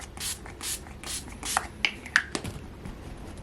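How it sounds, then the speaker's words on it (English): Bursts of Scandinavian makeup setting spray misted onto a face, a few short hissy puffs clustered near the middle amid soft rubbing and handling noises, close and fairly quiet. "Let's put on setting spray together."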